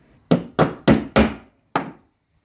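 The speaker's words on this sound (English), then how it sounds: "Just whack it with a hammer." Hammer blows on the front sight of a Springfield Armory M1A rifle: four sharp metallic strikes in quick succession, a brief pause, then a fifth, close and loud with no talk.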